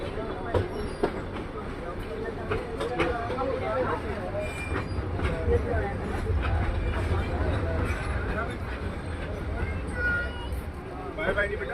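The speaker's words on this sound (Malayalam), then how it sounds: "നമ്മുടെ ട്രെയിൻ അങ്ങനെ വീണ്ടും ലൗഡേൽ റെയിൽവേ സ്റ്റേഷനിൽ നിന്നും പുറപ്പെട്ടിരിക്കുകയാണ്" The Ooty mountain train pulls out of Lovedale railway station in the Nilgiris, wheels clacking and squealing with a low rumble, while passengers chatter throughout.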